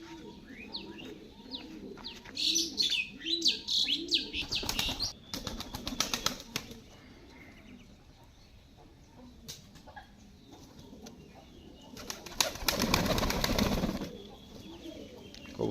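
Pigeons freshly bathed and brought back into the house give low, throaty coos mixed with bursts of loud wing flapping, busy at first, then quieter, with another close flurry of flapping near the end.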